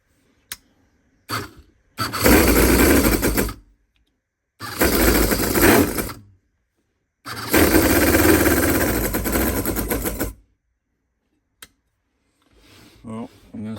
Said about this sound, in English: So let's fire this one up.